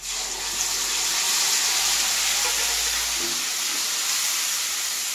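A paste of ginger, garlic and dried chilli fries with browned onions for mutton curry, making a loud, steady sizzle close by. The hiss runs unbroken throughout, with faint low stirring movement underneath.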